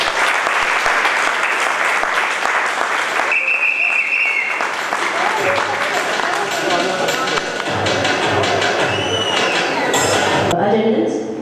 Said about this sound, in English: Let's all carry this vote of thanks in the usual grand way with a thunderous applause.